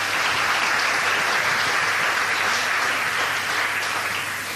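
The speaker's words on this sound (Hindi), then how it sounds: "सो प्लीज़ जोरदार तालियां दीजिए" An audience at a live self-healing wellness program applauds loudly and steadily. Dense, even clapping carries on with no pause for the whole stretch and fades only slightly at the end.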